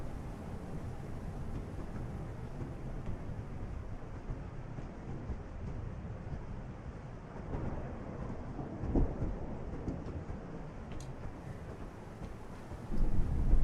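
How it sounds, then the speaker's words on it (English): A storm with rain and thunder, a steady broadband roar of rain and wind throughout, with a brief low rumble near the middle and a swell at the end, nearby and continuous with no talking. "The storm's not letting up."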